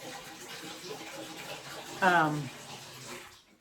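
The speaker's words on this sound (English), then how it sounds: "Becky's giving Dakota some water. That's what that noise was" Water splashes and pours into a dog's bowl for a moment over steady running-water background noise, then fades out.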